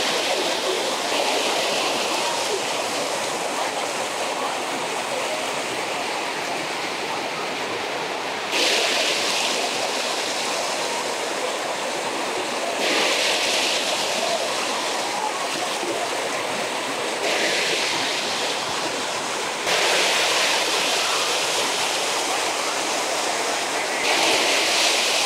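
Fast river water rushing in Munich at a spot where people jump in, a loud, continuous roar and splash that surges in waves over the clip, with a voice talking over it outdoors.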